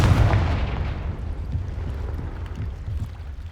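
A booming blast from the Confringo spell in Hogwarts Legacy opens loud and heavy, then rolls off into a long, low rumbling decay.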